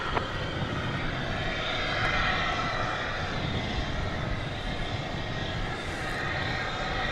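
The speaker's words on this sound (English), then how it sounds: "It's a -9 Dreamliner. Good land, 20 right, American 2661" An American Airlines Boeing 787-9 Dreamliner lands on runway 20 right at DFW Airport, a continuous engine roar that stays distant and even, swelling slightly mid-way.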